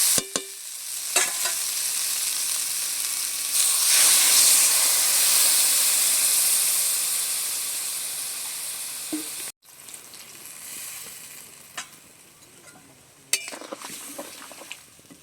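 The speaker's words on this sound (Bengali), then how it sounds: "লঙ্কার গুঁড়োটা দিয়ে বেশ সুন্দর করে কষে নিয়েছি, এবারে জল দিয়ে দেবো।" Water poured onto fried chilli powder in a pan sets off a loud burst of sizzling and steam that slowly fades, broken by a sudden cut and then quieter bubbling with scraping stirs and occasional pan knocks.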